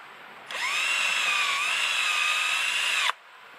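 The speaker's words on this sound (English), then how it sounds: "I have an older DeWalt that I'm using for driving the screws" An older DeWalt power drill driving screws into an aluminum no-dig fence post, one steady whining run of about two and a half seconds that starts and stops abruptly, close and loud, no voices.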